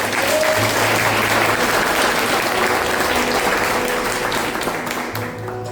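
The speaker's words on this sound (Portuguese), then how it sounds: "Pode aplaudir o Espírito Santo." A Sunday night church congregation breaks into loud, sustained applause, thick clapping near and far with a low hum beneath, gradually easing toward the end.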